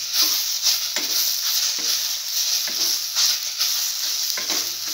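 Scrambled egg and bread pieces are stirred in a frying pan, giving a soft continuous sizzle broken by repeated scraping strokes at an even pace.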